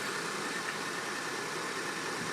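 A 2008 VW Passat with a 2.0 turbo engine idles with a misfire, a steady, dense close-up drone with broad hiss and rumble and no clear pauses.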